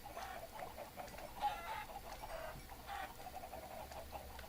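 Chickens cluck in a survival video game while eggs, meat and feathers are being gathered, a steady run of soft, overlapping clucks and squawks over a low, continuous background hum.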